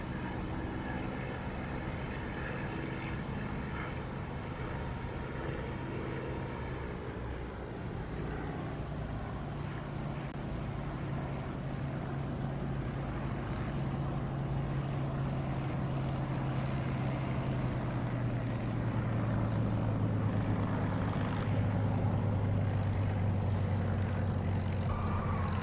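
Aircraft in the DCS flight simulator game coming in to land, a continuous loud engine drone and rushing roar that slowly shifts lower in pitch throughout, with no speech.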